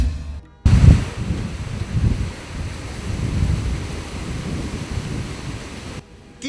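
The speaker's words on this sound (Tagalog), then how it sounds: "Kini ang paghapak sa kusog nga hangin inubanan sa kusog-sab nga pag-ulan" Strong wind and heavy rain during a storm in an upland barangay of Davao City, a steady, loud roaring wash of gusts and downpour lasting several seconds with no voices.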